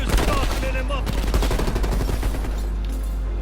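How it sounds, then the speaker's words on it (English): Rapid bursts of Hauer 77 shotgun fire from Call of Duty Black Ops Cold War, loud and close, with sharp repeated blasts packed densely through the first two and a half seconds before trailing into rumbling echo. "the Huer-77 is probably the most powerful gun in this game"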